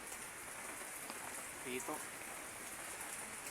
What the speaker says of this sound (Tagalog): Ayan, nagulan-ulan rito eh.